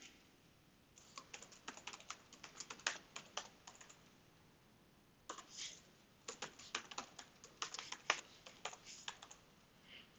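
Computer keyboard typing a username and password during an Entra ID environment setup, heard as close, quick bursts of key clicks in two runs separated by a short pause, with no talk.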